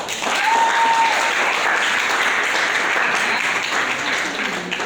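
Classroom applause for a student group after a plant tissue biology presentation, a steady burst of many hands clapping close by for about five seconds, with a brief voice or whistle-like tone near the start.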